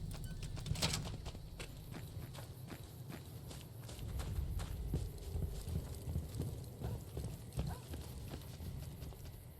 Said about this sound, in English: Heard your footsteps coming up the ramp.